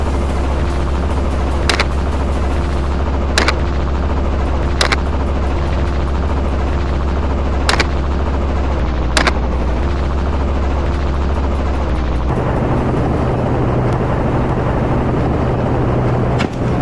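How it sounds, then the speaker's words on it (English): A helicopter flies low and tight over open ground during a wild boar hunt, its rotor drone loud and steady throughout, punctuated by several sharp, brief cracks spaced a second or two apart. "Our helicopter pursued, swooping in low and tight."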